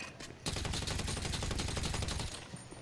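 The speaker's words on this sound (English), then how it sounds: "Ow, I'm getting shot at." Sustained rapid gunfire in GTA Online, a dense continuous automatic burst lasting a couple of seconds before cutting off, fairly faint in level overall.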